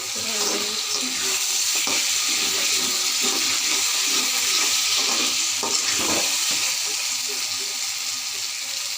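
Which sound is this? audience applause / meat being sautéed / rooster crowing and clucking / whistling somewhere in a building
meat being sautéed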